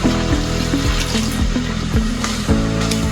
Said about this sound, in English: So I'm gonna add some water now to make the sauce.